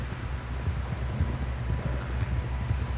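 Horse galloping in Red Dead Redemption 2, a steady rhythmic clip-clop of hooves at close range, moderately quiet, with a soft windy background.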